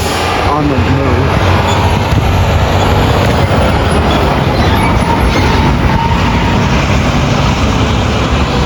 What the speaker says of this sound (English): we have BNSF GEs on the move.